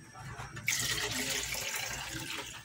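Water poured into a cooking pot while making pancit bato, a sudden splashing rush that settles into a steady pouring hiss, close by.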